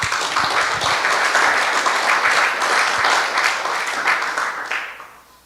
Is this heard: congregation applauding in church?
yes